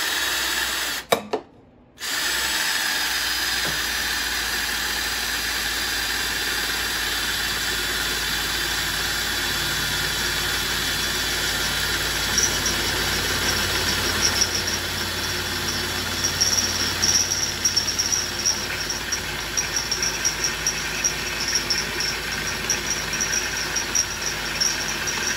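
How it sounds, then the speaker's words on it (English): Power drill boring through tough steel on a NorthStar 10,000-watt generator, a loud continuous high-pitched whine that runs steadily for over twenty seconds after a brief start and pause. "So go ahead and drill this one out here."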